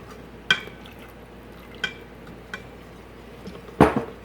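A whisk knocks against the metal insert of an Instant Pot while stirring thickening gravy, giving a few sparse sharp clinks separated by quiet pauses, with a louder rattle near the end.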